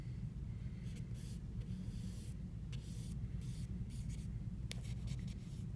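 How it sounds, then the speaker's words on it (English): Vine charcoal sketching on paper, close and quiet: irregular bursts of dry scratchy strokes, some long and some quick, broken by short pauses, over a low steady background hum. "I'm going to start by sketching with it."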